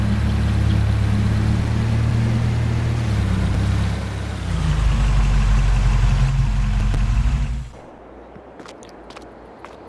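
A truck idles in Farming Simulator 22, running roughly as if it does not sound good. The low steady engine rumble holds for several seconds, then drops away, leaving faint ticks.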